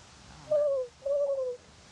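A person imitates an owl call with the voice, though it comes out like a quivering dove's coo: two sustained, wavering hoots with a short gap between, close and clear, with no talk and a quiet outdoor background.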